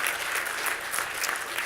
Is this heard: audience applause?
yes